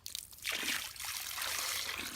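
Water pours from a dipper in a short, close trickle that starts after a brief clatter and runs as a steady splashing stream for under two seconds.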